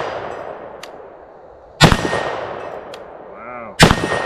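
Two sharp, loud gunshots from a Romanian SAR2 AK74 rifle about two seconds apart, each a hard crack with a ringing tail, fired outdoors with faint chatter in between.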